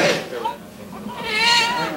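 Newborn conjoined twin baby girls cry loudly in a hospital setting, two strained wailing bursts at the start and end with a brief lull between, close and prominent.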